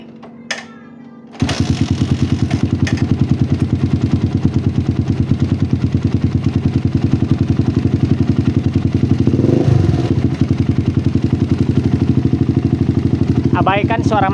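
A motorcycle engine fitted with a PWK carburetor starts and settles into a steady, loud idle chugging close by, with a short rising rev midway and a faint voice near the end.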